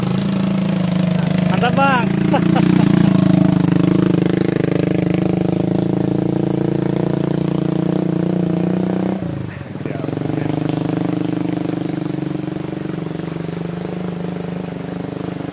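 A Honda Astrea motorcycle engine idles and runs steadily near a water source site, a low continuous hum with brief speech early on and a dip partway through.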